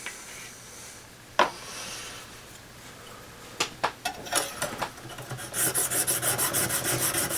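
A knife is drawn over a fine, oiled Lansky sharpening stone with a quiet rasp at first, then a run of rhythmic scraping strokes that grow steadier and denser toward the end.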